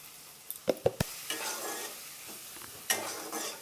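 Ground spices with chilli powder, Kashmiri chilli powder and salt are stir-fried in a pan, a few sharp spatula scrapes and knocks up front followed by a soft, steady sizzle and another scraping stir near the end.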